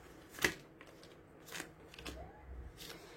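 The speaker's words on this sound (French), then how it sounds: "Je coupe et je prends une carte au hasard" Tarot cards cut and a single card drawn, heard as a few soft papery snaps and slides spread across a few seconds, quiet and close with no talking.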